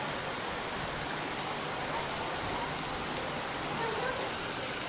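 Heavy monsoon downpour pounds steadily during a windy thunderstorm, a dense, continuous roar of rain filling the scene at constant loudness without pause.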